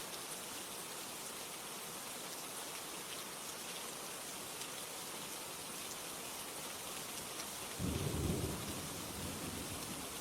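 Steady rain falls with a continuous wash of drops, and a low rumble of thunder rolls in near the end, with no voices present.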